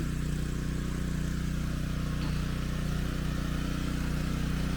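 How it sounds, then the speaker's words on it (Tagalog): Motor engine driving water pumping for irrigating peanut crops in a field, a steady mid-range running drone with an even pulsing hum that holds at constant level throughout, fairly close and without voices. "ayan yan ang motor ayan"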